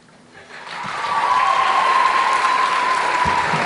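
An audience at an academic all-star awards ceremony breaks into applause, the clapping building over the first second into a steady, full ovation that carries on without talk.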